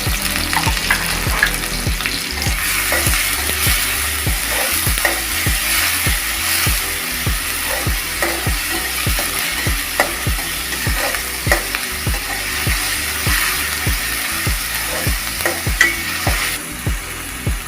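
Chopped onions fry steadily in a pan for a loitta fish dish, with a constant close sizzle broken by regular scraping stirs.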